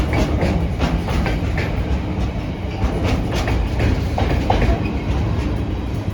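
A Garston to Southampton train rolls through Acton Mainline on the Great Western Main Line, a continuous loud, near rumble of wagons with repeated wheel clatter and a brief squeal.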